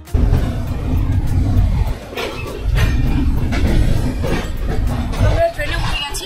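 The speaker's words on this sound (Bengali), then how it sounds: "ট্রেন স্টার্ট হয়ে গেছে" A loud, steady rumble of the New Delhi to Jammu Tawi Rajdhani Express getting underway, heard from inside an AC First coach, with low mechanical drone and rattling, overlaid by a murmur of voices nearby.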